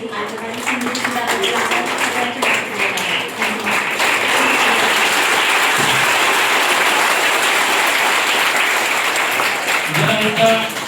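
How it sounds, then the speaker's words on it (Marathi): Loud, sustained applause from a college audience at Sant Muktabai College in Muktainagar, a dense, steady wash of many hands clapping that fills the whole stretch and swells slightly near the end. "जोरदार टाळ्यांचा गजर"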